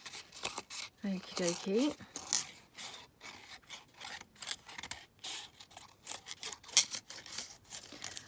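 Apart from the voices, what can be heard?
scissors cutting out a paper flower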